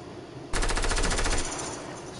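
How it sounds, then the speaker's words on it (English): Automatic gunfire in a multiplayer shooter video game breaks out suddenly as a rapid, loud burst of shots that rings on and fades slightly over two seconds, with no talk over it. "There's people shooting. Of course they're shooting."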